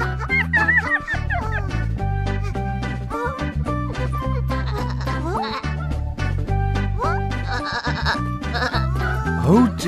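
Sheep escaping through an open gate in a cartoon bleat repeatedly over cheerful music and animated voices, the calls wavering and overlapping throughout.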